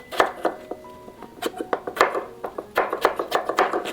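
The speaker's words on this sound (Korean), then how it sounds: "반으로 가르고 또 반으로 갈라서 한 1cm 두께로 듬성듬성 이렇게 썰어 주었답니다" A knife chops potatoes into pieces about 1cm thick repeatedly on a cutting board in quick, uneven bursts, close and clear, with light clatter and no talking.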